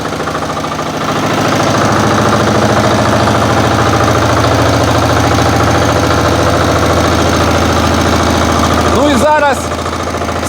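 A Motor Sich or WEIMA walk-behind tractor engine running at a steady, loud, close-up chugging idle that holds for most of the clip, ending with a brief squeal.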